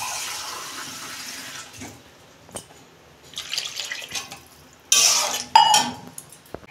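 Water poured into a pan of spiced vegetable curry for a Bengali fish curry, splashing and gurgling in short bursts with clinks of a utensil against the pan, close by and fairly loud.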